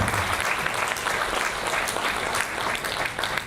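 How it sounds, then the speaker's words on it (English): A university audience applauds steadily for a few seconds, dense clapping from a large crowd in a hall with no pause in between. "Please clap for yourself."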